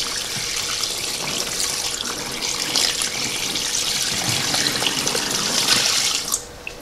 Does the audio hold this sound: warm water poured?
yes